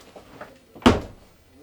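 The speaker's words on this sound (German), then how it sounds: "Wenn ich diese Tür zumache, dann hören wir uns fast gar nicht mehr." The door of a part-integrated Mercedes-based motorhome is pulled shut with a single solid thump, heard close by after a moment of quiet room sound.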